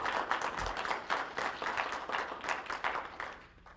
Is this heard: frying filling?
no